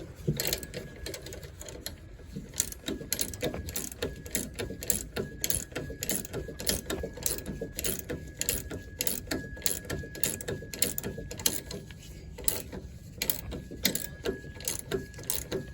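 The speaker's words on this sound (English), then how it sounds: "I have a ratcheting wrench." Ratcheting wrench snugging a rear shock bolt on a 2020 Toyota Tacoma, giving a steady run of rapid, fine clicking close by, quiet and continuous.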